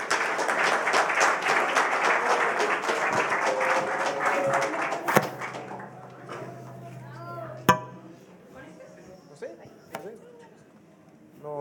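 An audience applauds a guest speaker with dense, continuous clapping that fades after about five seconds, leaving a quiet room with a few sharp taps and knocks.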